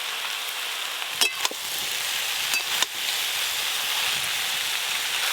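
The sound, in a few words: bottle gourd greens cooking with fried prawns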